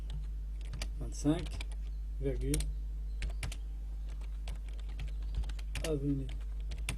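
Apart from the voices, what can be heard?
typing on a computer keyboard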